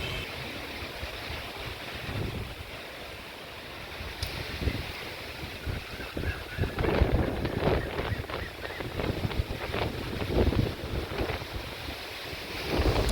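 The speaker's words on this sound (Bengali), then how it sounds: "হাওয়ার প্রচণ্ড দাপটে বড় গাছের ডালপালা নুয়ে পড়ছে।" Cyclone Remal's strong wind in Kolkata bends large tree branches, heavy rushing gusts roaring and rustling through foliage, rising and falling in loud waves with constant microphone buffeting.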